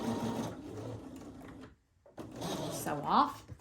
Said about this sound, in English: I am probably going to top stitch around mine on the machine